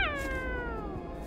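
A shrill, wailing screech from the alien creature in the video game Alien: Isolation, a single harmonic cry that bends steadily downward in pitch over about a second, loud and close with no talking.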